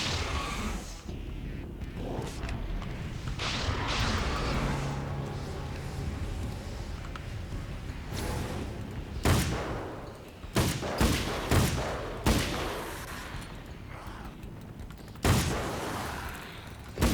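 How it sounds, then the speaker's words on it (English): Rifle shots ring out in an action video game, first under a rumbling, busy soundscape, then as several distinct sharp bursts spaced across the latter half, fairly loud. "This rifle doesn't do that much damage"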